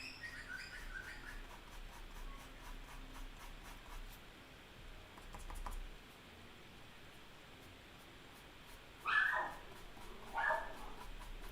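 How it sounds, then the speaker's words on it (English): A dog at home gives two short, faint whimpering yelps near the end, set against quiet room noise and light scratching sounds. "Sorry, that's my dog."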